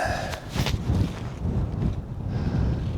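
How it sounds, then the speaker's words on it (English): Wind buffets the microphone on a mountain ridge near Frijole Peak in Guadalupe Mountains National Park, with low, rough rumbling gusts that rise and fall for a few seconds, with no talking. "It's a little windy."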